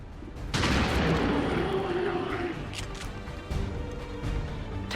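A shotgun blast from a squad soldier in the turn-based strategy game XCOM 2: War of the Chosen, with a sharp loud onset followed by a sustained rumbling burst and decaying debris-like rattles.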